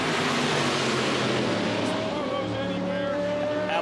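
Le Mans race car of the Racing for Holland team at the 24 Hours of Le Mans 2006, a loud steady engine roar that rises in pitch toward the end, with crowd and track noise around it.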